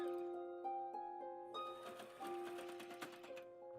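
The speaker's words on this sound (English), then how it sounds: "now I'm going to just zigzag stitch the top where I sewed and cut" A sewing machine zigzag-stitches along a sewn and trimmed seam of satin lingerie. A faint steady tonal hum opens, then rapid mechanical chattering bursts take over for the last couple of seconds.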